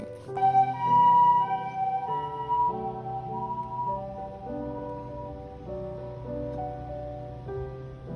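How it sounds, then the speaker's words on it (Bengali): An ambulance siren on the street below in Japan, a wailing tonal pattern heard from a balcony above, moderately loud and steady, fading slightly as it continues, with no talking. "নিচে অ্যাম্বুলেন্সের শব্দ হচ্ছে"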